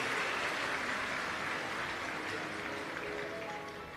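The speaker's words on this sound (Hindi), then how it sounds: "एक बार यजमान परिवार के लिए जोरदार ताली बजाकर स्वागत, वंदन, अभिनंदन।" Applause from a devotional audience at a Shiv Mahapuran katha gathering in Pune, a dense continuous clapping that stays steady and fairly loud before easing slightly at the end.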